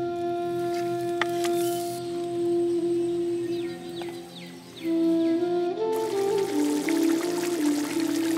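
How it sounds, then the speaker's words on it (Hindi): Water pours steadily into a pot of cooking chicken, a continuous splashing stream that grows fuller near the end, with faint background sounds and no speech. "गोश्त को गलाने के अनुसार पानी डालकर गोश्त को गलने के लिए छोड़ देंगे।"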